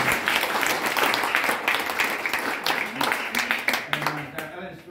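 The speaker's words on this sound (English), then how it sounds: "Big round of applause for Shane" Steady applause from a conference audience at a sparkling wine sustainability summit, dense clapping at moderate level that thins toward the end, with a voice briefly heard near the close.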